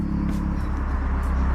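Mazdaspeed 3 with full bolt-ons and a custom catback exhaust idling with a steady, deep low rumble, close and continuous throughout.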